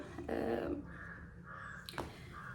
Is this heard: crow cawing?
yes